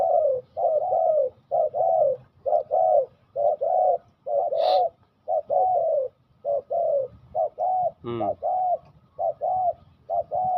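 A dove coos in steady repeated phrases, the soft hooting calls coming in a regular rhythm, with a brief higher bird call midway.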